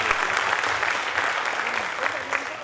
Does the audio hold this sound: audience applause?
yes